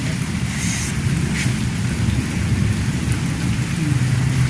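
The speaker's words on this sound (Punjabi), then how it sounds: "ਮੀਂਹ ਦੇਖੋ ਜੀ ਹਜੇ ਤੱਕ ਪਈ ਆ" Steady, dense rainfall pours down continuously, loud and close, a constant hiss and patter with no voices.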